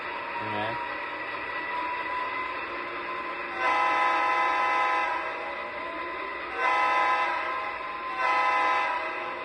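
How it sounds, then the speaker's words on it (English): A Lionel model train, controlled by a Legacy or DCS Wi-Fi system with its smoke unit switched off, hums along steadily, with a brief horn note near the start and three louder surges of whistle or horn later. "I'm going to turn you down, Mr. Train."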